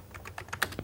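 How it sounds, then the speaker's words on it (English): Fast typing on a computer keyboard, a quick run of soft, close key clicks in an even rhythm lasting under a second, with no voices. "I could start just typing some text"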